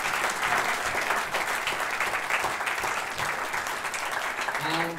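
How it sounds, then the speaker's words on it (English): A live stage audience gives sustained, full applause at the close of a podcast show, steady and fairly loud, with faint voices mingling in the crowd. "Give yourselves a round of applause"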